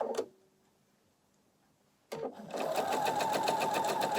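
A sewing machine stitching a scant quarter-inch seam: a brief burst of stitching, a pause, then a steady, rapid mechanical whirr with rhythmic clicking, close and clear.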